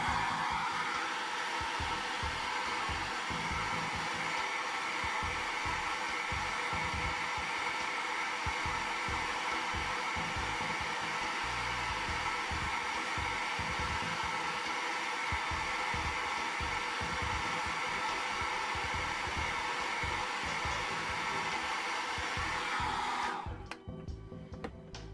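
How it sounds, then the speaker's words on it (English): Hair dryer blowing steadily on a wet portrait painting in oils, a continuous loud whooshing hum with no talk that holds for over twenty seconds before cutting off near the end. "so I'm just going to blow dry this."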